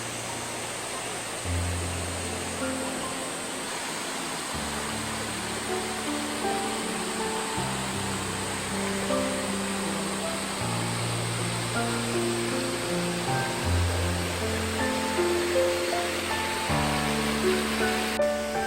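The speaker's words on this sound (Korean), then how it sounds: "이거 뭐 폭포가 뭐 웅장합니다" A steady, broad roar of a waterfall in Geumsan, South Korea, fills the scene, constant and fairly loud, with music and faint tourist voices layered over it.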